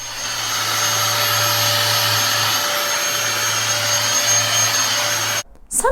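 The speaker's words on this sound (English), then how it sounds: "you need to vacuum the carpets using a vacuum cleaner" A vacuum cleaner runs steadily on carpet, a loud continuous motor whine and airflow roar holding for over five seconds before cutting off abruptly near the end.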